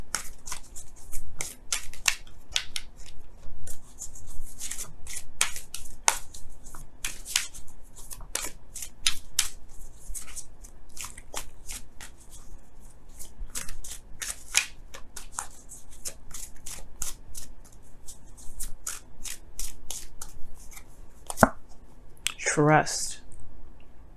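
Romance Angels oracle cards being shuffled by hand, with a continuous run of quick, close, crisp flicks and riffles and a louder riffle near the end.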